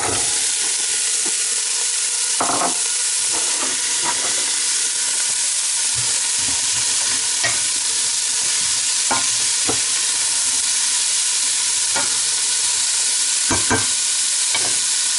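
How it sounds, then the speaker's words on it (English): Steady sizzling of vegetables frying in a pan, with intermittent scraping and stirring clatters throughout, close and continuous. "we're going to start by frying off our chopped up veggies"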